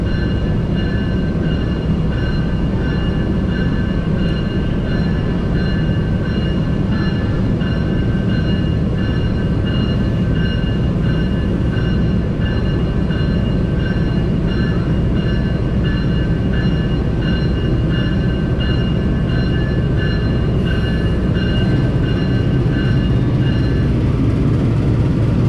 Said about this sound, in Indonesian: ini lokomotifnya langsung dilansir ke arah kota Bogor